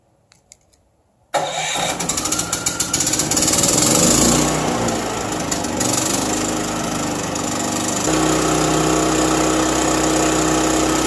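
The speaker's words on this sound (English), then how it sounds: "let's go ahead and start the inverter generator." After a few faint clicks, an eTrailer inverter generator starts abruptly with a loud rattling burst, then settles into a steady, loud engine drone that shifts to a lower, even tone partway through.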